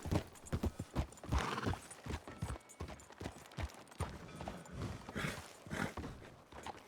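Hooves clip-clop in an irregular rhythm close by, with a brief whinny and some mechanical rattling mixed in.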